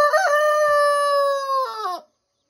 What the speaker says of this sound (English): The main reason a rooster will fire up and crow during the middle of the day